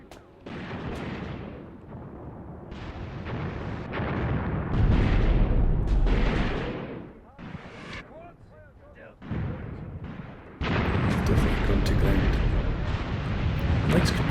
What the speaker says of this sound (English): We do have 4 of them down there lobbing shells over.